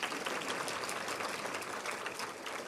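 An audience at a spiritual gathering with Dadi Janki in the Midlands claps together in a dense, steady wash of applause that runs throughout without pause.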